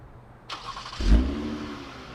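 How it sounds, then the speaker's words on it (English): A 2022 Toyota Camry TRD engine starts close by after a sharp click, catching with a deep throaty exhaust rumble that swells briefly and then settles into a steady idle. "it's got a nice little throaty exhaust on it"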